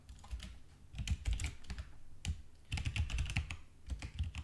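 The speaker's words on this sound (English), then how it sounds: "So I'm going to type up this Java doc." Typing on a computer keyboard while writing Java documentation comments, with steady bursts of close key clicks and short pauses, no voices.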